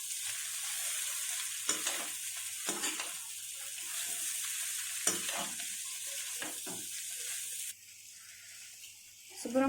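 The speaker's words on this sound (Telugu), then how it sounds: "తాలింపులో అటుకులు పోసుకొని కలుపుకోవాలి." Flattened rice mixed into a tempering of ginger, curry leaves and carrot in a pan for poha upma: a soft background sizzle with repeated scraping stirs, fairly quiet and close.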